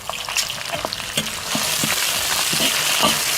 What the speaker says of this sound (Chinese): 锅里倒点油，下入蒜和生姜，下入干辣椒、花椒